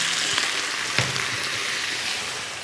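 Beef and blanched canola flowers hiss as they are stir-fried in a pan, a steady crackling sizzle with a couple of faint utensil taps, fading slightly toward the end.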